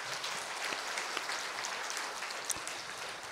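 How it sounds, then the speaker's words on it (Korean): Congregation at a Korean Sunday church service breaks into steady applause to congratulate a member on her upcoming wedding, a dense, even clatter of many hands sustained throughout without a break. "먼저 축하한다 박수 한번 드리겠습니다."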